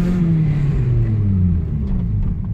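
Toyota Celica Mark 7 engine with the butterfly valve removed and a modified exhaust, a loud close droning roar with a steady low note that slowly drops in pitch as the revs ease off.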